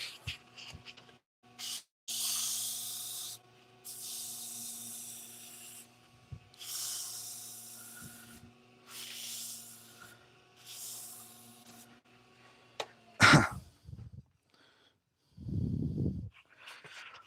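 Sandpaper is rubbed by hand against the inside of a turned walnut piece, making repeated close, soft scratchy rasps in separate strokes with short pauses, over a low steady hum, without talk.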